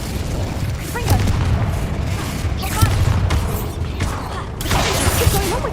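Confringo blasting spell explosions in the Hogwarts Legacy video game, booming bursts with crackling debris mixed with whooshing magical effects and combat noise, loud and repeated across the scene.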